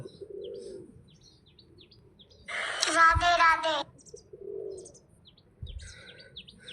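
Pigeons coo softly nearby, with a louder burst of bird calling and fluttering in the middle and faint chirps around it.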